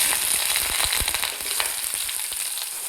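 Chopped shallots and green chillies fry in hot coconut oil in a small pan for a drumstick-flower thoran, a steady close crackling sizzle with occasional louder pops and stirring scrapes throughout.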